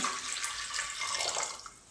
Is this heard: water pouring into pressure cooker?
yes